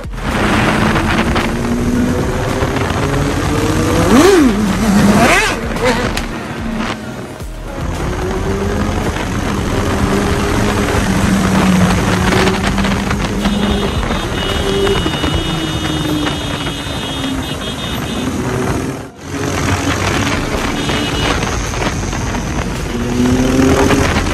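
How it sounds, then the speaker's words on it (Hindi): Kawasaki Ninja ZX-10R motorcycle with an Arrow exhaust on a road, its engine droning and revving up and down through passes, with strong wind buffeting the microphone throughout; no speech. "आज मैं आपको अपनी जेड एक्स का ओरिजिनल जो साउंड है वो सुनाता हूँ विद एरो एग्जॉस्ट"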